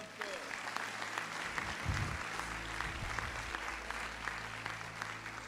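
Church congregation applauding during a sermon, a continuous spread-out clapping bed heard over low rumbling tones and sustained background music.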